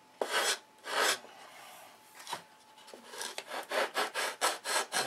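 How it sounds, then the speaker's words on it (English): Wood is sanded by hand with 80 grit sandpaper, close rasping strokes that start slow and widely spaced, then quicken into a steady back-and-forth rhythm. "Back to 80 grit now to get... We needed to take quite a bit of material off there."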